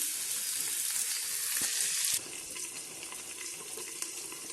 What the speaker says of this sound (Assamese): মধ্যমীয়া জুইত আমি অকণমান তাক ফ্ৰাই হ'বলৈ দিম।